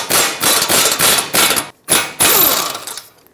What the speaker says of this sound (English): Now with a 22mm socket, remove the 2 bolts that hold the bracket onto the knuckle.